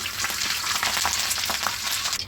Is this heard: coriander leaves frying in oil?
yes